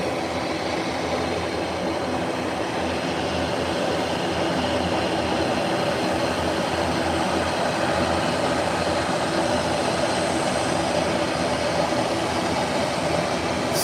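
An airliner taxis after landing from Kingston, Jamaica, giving a steady, loud broadband rumble that holds unbroken throughout with no voices.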